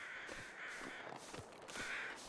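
Agitated crows in the video game The Long Dark caw repeatedly in quick, harsh bursts, four or five calls in a row, faint and somewhat distant over a soft steady hiss.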